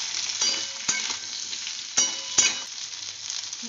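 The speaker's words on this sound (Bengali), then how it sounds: "এবারে কুমড়োগুলোকে আমি একটু ভেজে নিচ্ছি" Pumpkin pieces fry in a pan with a steady, close sizzle, broken by a few sharp scraping clicks from stirring.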